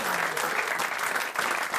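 A studio audience claps during a French radio-TV talk show, giving sustained dense applause that stays loud and even throughout.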